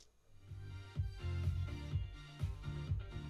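A song fading in at the start of a pictures-and-music video: a quiet music track rising from near silence, with a steady thumping beat and sustained low tones, faint overall with no voices.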